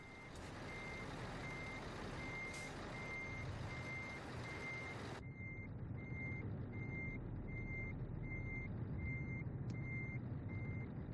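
Repeated reversing beeps sound steadily from a truck being backed into a parking spot in Euro Truck Simulator 2, over a constant engine drone. The beeps stay evenly spaced throughout, and the background gets quieter about halfway through.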